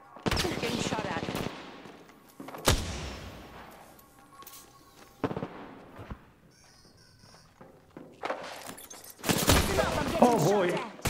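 Bursts of automatic gunfire in Apex Legends on the Kings Canyon map during a Halloween trios match, loud separated volleys with quieter gaps, game character voices speaking in between.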